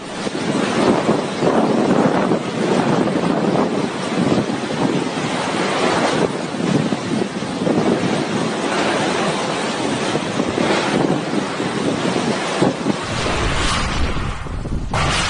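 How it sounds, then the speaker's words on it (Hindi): Powerful gusting wind from a super cyclone in Haldia, West Bengal roars and buffets the microphone continuously, loud and surging, with rushing turbulent noise throughout and no voices. "ये तेज हवाएं अपने साथ सब कुछ उड़ा ले जा रही थी।"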